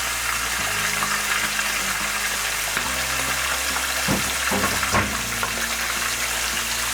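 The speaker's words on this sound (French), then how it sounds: "I'm gonna add a bit of water just so the tomato can really be cooked properly." Water poured into a pan of cooking tomatoes for a salt fish dish gives a steady, loud sizzling hiss with bubbling, and a few sharper splashes midway.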